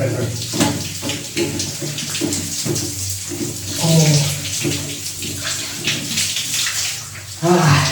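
Hot tap water runs steadily into a bath with a broad rushing splash, close and loud, while people talk briefly over it.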